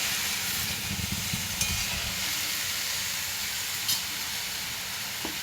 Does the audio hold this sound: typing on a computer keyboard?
no